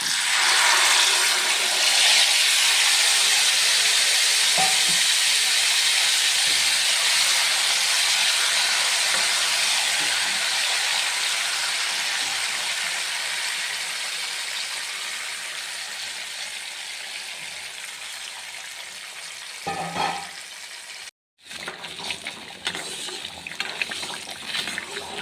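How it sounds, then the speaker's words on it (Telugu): Tamarind pulp hitting hot oil in a pan with fried dried red chillies and garlic for a drumstick-leaf pickle, a loud steady hiss and sizzle that slowly eases off and then briefly cuts out, no voices. "ఇప్పుడు ఈ ఎండుమిర్చి తెల్లగడ్డ వేగిపోయిన తర్వాత చింతపండు గుజ్జు ఆయిల్లోకి వేసేసుకుందాము."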